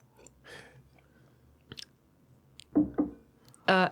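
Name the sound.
person sipping water from a glass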